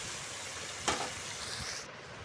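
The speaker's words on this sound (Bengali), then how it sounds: "এবার মাছগুলো সব ভাজতে বসিয়ে দিলাম। মাছগুলো একটু লাল লাল করে ভেজে নেব।" Fish pieces frying in a pan make a dense, continuous hiss close by, with one brief sharper spatter partway through and no talk.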